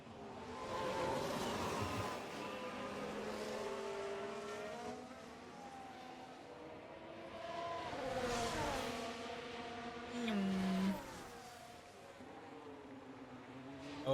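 Formula 1 race car engines in the F1 Manager 24 video game at the Austria sprint race, with several engine notes rising and falling as cars rev, pass and shift gears, heard alone with no talk.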